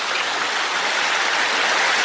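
A mountain river rushes past close by on a coast-to-coast walk in heavy rain, a loud, unbroken watery roar filling the whole moment.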